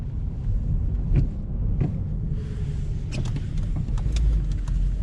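A manual-transmission car's engine rises in a brief rev as the driver blips the gas and lets the clutch up, a steady low rumble with a few sharp clicks and knocks from the cabin.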